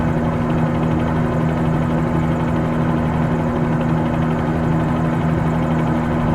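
Helicopter in Microsoft Flight Simulator 2020 over Dubai, a constant loud rotor-and-turbine drone holding steady throughout with no talking.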